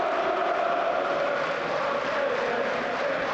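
A steady stadium roar of applause and cheering from the crowd at a Manchester United versus Newcastle United Carabao Cup match as a Newcastle midfielder leaves the pitch, a dense, continuous wash with no individual voices standing out.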